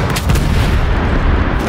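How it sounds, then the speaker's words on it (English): A loud, sustained blast with a deep booming rumble that fills the whole clip, heavy and close, like an explosion at an oil field in Shadow of the Tomb Raider. "Your ears will be ringing from that explosion."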